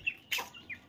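Chickens, free-range village hens kept as pets, give a few short, quiet clucks and chirps within about a second, with no talking.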